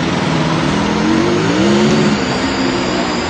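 A gang of bikers rides in convoy through the streets of Delhi, motorbike engines revving in a loud, continuous drone whose pitch rises and falls as they pass, with no voices.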